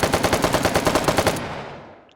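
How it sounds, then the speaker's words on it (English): Rapid automatic gunfire from a video game weapon, a steady burst of fast repeated shots for over a second, then a reverberant tail that fades out. "You have a lot more bullets, or are you shooting a lot slower?"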